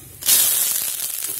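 A sudden loud hiss of curry leaves hitting hot oil, sizzling steadily and sharply after a quiet start, close up with no talking.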